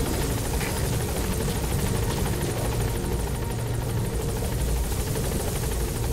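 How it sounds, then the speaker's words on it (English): A helicopter's rotor thumps steadily and loudly nearby, its rapid chopping pulse continuous throughout, with no voices. "Support helicopter has arrived."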